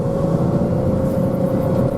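Jaguar X-Type 2.5 V6 automatic estate kicking down on a slight uphill, the engine note rising into a steady, loud revving drone with a strong low rumble, continuous and close throughout, no talk over it.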